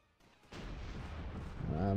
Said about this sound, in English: Oh, the enemy also has artillery.